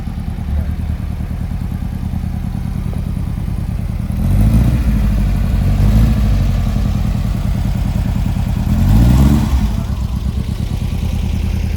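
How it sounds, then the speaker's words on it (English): A 1960s-style race car with an air-cooled Volkswagen engine idles at a cars and coffee meet, a loud steady clattering burble with two short revs around the middle and end, while people talk nearby. "It has a Volkswagen motor. It sounds, listen to it, sounds just like the Volkswagen Beetles from the 60s."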